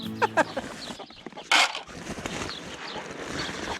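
A hen with three newly hatched chicks on a dairy farm, a few close clucks and short squawks early on followed by soft scattered peeping and rustling, with no talking.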